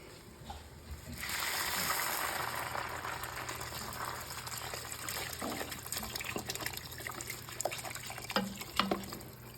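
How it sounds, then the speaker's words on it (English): Vegetable broth from a 32-ounce container pours steadily into a soup pot for lentil soup, a continuous close liquid splashing and trickling that runs for most of the stretch, with a few small clinks near the end. "They have 1 whole container of vegetable broth, 32 ounces. I'm going to add that."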